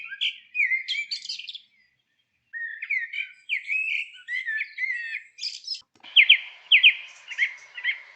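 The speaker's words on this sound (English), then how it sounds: "Mellow but loud, the blackbird combines bursts of fluty and bubbly notes with trills and twitters in a diverse repertoire." A blackbird sings loud, mellow fluty and bubbly phrases with trills and twitters, in separate bursts with a short pause between them, close and clear against a quiet background.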